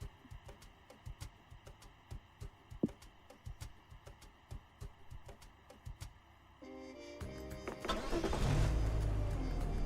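A car engine in the video game Monster Prom: Roadtrip. Light ticking and clicking comes first, then the engine catches and builds into a loud, sustained rev that grows stronger to the end.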